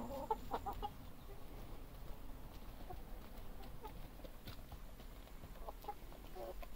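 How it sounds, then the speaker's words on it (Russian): Large hens of the Dominant breed cluck softly in a farmyard, with sporadic short calls and occasional louder clucks over a quiet, steady background. "Ну, достаточно крупные курицы,"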